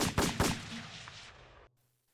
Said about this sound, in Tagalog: Muli ay umalingaw-ngaw ang mga putok ng baril.